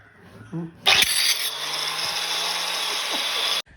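A high-RPM power machine starts abruptly after some faint handling noises, then holds a loud, steady high-pitched whine for several seconds before cutting off sharply.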